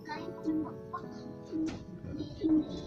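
Racing pigeon, a gift bird, cooing in three soft repeated phrases about a second apart, close by, with faint background voices and a low hum underneath.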